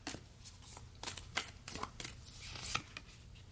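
Archetype tarot-style card deck being shuffled, a series of quick papery riffles and flutters with short pauses between bursts, fairly faint and close with no talking.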